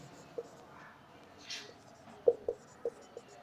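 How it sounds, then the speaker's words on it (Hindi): Chalk or marker strokes on a board during a classroom lesson make a few short, scattered taps and scratches. They are faint and quiet over the room's background hum. "तो मैं यहाँ लिखता हूँ"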